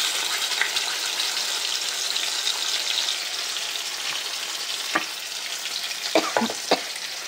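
Nigella seeds and a blended paste fry in a kadai wok with a steady, dense sizzle, broken near the end by a few sharp clinks and scrapes of stirring.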